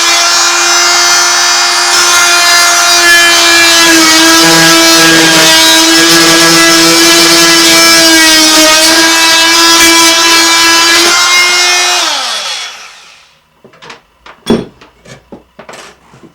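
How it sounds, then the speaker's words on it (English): Power saw bevel-cutting a wooden Georgian stair tread, a loud, close, steady whining drone for about twelve seconds that winds down, followed by a few sharp knocks and clatters. "Then I can cut through on the bevel here."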